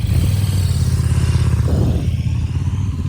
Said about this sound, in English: So here is an M109R, huge big old cruiser.